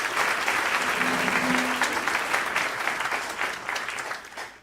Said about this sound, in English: So how about a round of applause for Charles Kref III?